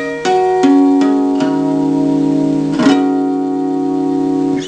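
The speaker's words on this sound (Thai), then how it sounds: "อันนี้คือเสียงฮาร์โมนิกนะครับ" Natural harmonics on a guitar ring out as bell-like chimed tones. Several notes are struck in an even sequence and left to sustain and overlap, loud and close, with no talking.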